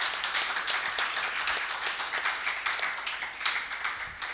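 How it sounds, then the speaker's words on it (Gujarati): Audience applause at a music programme honouring Shaileshbhai Pandya, a dense, steady crowd clapping that fills the whole span without talk. "એમના માટે ખાસ તાળીઓ"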